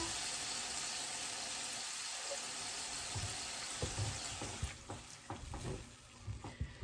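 Steak juices and a quarter cup of water hit a hot pan, giving a broad, steady sizzling hiss that turns more crackly and bubbly with scattered pops toward the end.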